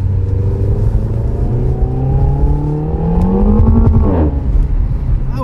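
A front-wheel-drive Renault accelerating hard with its wheels slipping, the engine droning loud and close as its pitch climbs steadily before dropping sharply near the end, rumbling throughout.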